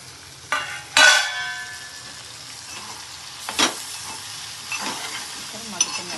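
Okra and brinjal cook in a pan with a soft sizzle, broken by several sharp scraping stirs of a utensil, close and moderately loud.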